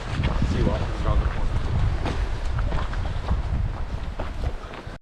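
Breezy wind on a hike to Dovestone Rocks, gusty buffeting rumble across the microphone with low booming pulses, steady and fairly loud, while people chat intermittently underneath.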